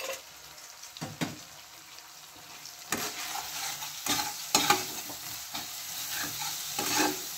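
Ground chilli, cumin and coriander sizzle in a pan for egg pulao while a spoon stirs them, scraping in repeated strokes over a steady frying hiss.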